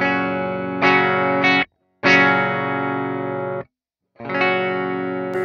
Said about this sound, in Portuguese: esse aqui então é o canal Plexi com distorção